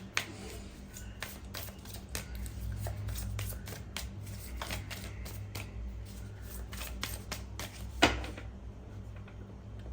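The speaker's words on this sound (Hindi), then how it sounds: "I have to shuffle again." A tarot deck is shuffled close by, producing a dense run of crisp riffling flutters and card snaps over a low steady room hum, with one sharper slap near the end.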